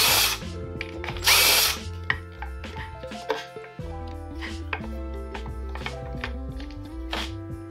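A power drill whirs in loud bursts while backing out the seat screws on a Kuberg Freerider electric dirt bike, with short clicks and clatter between the drill runs and no talk.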